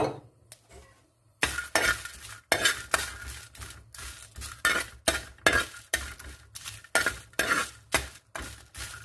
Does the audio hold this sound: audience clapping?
no